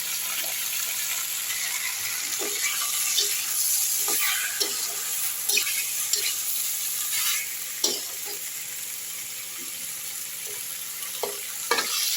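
Potato, pointed gourd and chopped tomato fry with spices in a pan, a continuous close sizzle broken by repeated stirring scrapes and clinks of the spatula.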